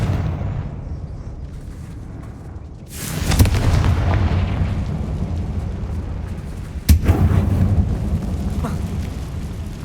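In the video game Hogwarts Legacy, the Confringo fire spell detonates inside a closed mine tunnel, first with a loud booming blast that rumbles on, then with a second sharp explosion a few seconds later.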